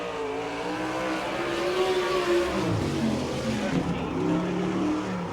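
A sprint car, number 92, roars past at speed during a timed lap at a dirt track in Fremont, Ohio, its engine loud and steady with a rising and falling pitch as it passes.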